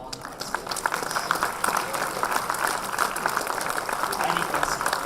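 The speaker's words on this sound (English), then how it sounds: "a big round of applause to all the participants" Audience applause for participating teams at a college law event, a continuous crowd of hands clapping at moderate loudness, with a voice speaking over it.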